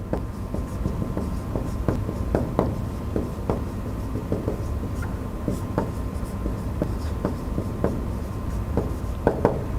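Chalk or marker writing on a board during a cerebrovascular anatomy lecture, a steady run of close scratchy strokes and taps lasting throughout, heard alone with no talk.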